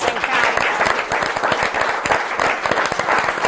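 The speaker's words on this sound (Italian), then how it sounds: "un applauso a Anna" A studio audience on a television programme gives loud, sustained applause for a guest, a close, dense, even roar of clapping from start to finish.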